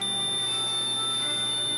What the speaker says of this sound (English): There we have our alarm.